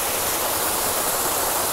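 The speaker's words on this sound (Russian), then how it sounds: "Маленький водопадик, и не один." Small waterfall in a canyon in western Georgia, a steady, full rush of falling water close by that fills the whole moment without a break and with no voices.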